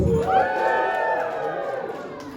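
An audience at a Supaman hip-hop show at the Intertribal Friendship House in Oakland, California cheers and whoops loudly and steadily, with one rising shout standing out above the continuous crowd roar.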